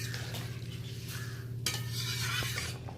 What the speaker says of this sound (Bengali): হালকা হাতে আমি একবার তরকারিটা নেড়েও নিলাম।